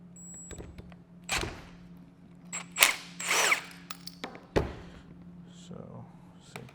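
A tool works loose an Allen key on the plunger of a Schmidt Micro Valve 3, giving a few short metallic clicks and scrapes amid close handling noise and a faint steady hum.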